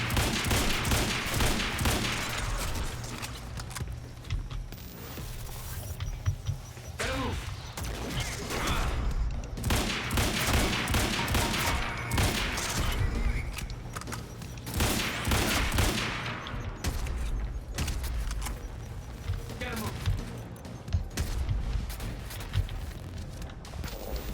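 Rapid gunfire from the video game Quantum Break crackles in dense, sustained volleys across the whole stretch, loud and close, with only brief lulls between bursts.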